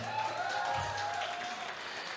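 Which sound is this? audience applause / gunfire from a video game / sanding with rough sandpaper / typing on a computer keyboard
audience applause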